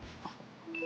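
A phone call being placed, with a steady electronic dialing tone that comes in near the end of a quiet one-second stretch.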